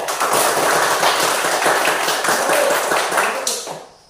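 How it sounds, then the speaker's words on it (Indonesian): Classroom pupils clap their hands together in a quick, dense burst of applause, loud and close, with a few voices mixed in before the clapping stops abruptly. "Tepuk tangan untuk Bapak. Rio."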